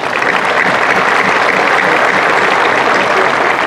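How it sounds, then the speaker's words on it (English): A high school graduation crowd gives a long, steady round of applause. Dense, even clapping fills the whole stretch at close range with no voices over it. "Let's give him a great big round of applause."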